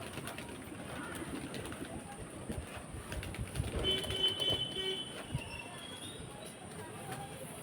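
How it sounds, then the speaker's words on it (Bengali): Pigeons coo softly while being fed wheat, quiet and close, with occasional faint voices and background noise around them. "দেখো তোমরা পায়রাগুলোকে খাবার দিই।"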